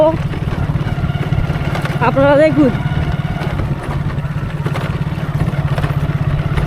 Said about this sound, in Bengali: আমার ভাই বাইক চালাচ্ছে ভাই